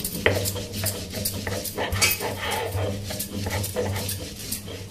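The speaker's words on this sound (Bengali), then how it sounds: "এভাবে করে আমি সবটা বেটে নেব।" Mustard seeds, a chili and salted arum being ground by hand on a grinding stone, a rhythmic gritty rubbing and scraping in repeated close strokes with a low steady hum underneath.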